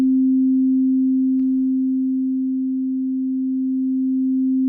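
A pure sine tone holds steady on one pitch, its loudness sinking gradually toward the middle and rising again as phase modulation pulls it into partial cancellation, with one faint click early on.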